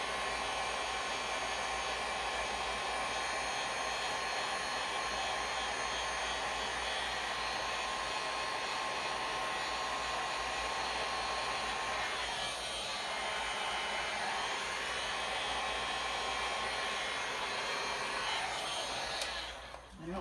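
A hair dryer blows out hair in a steady, loud, continuous whoosh that holds unchanged for about twenty seconds before briefly dipping at the end.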